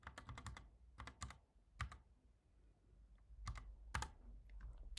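Keys clatter on a computer keyboard as code is typed, in quick bursts of clicks separated by short pauses, close and fairly quiet with no talking.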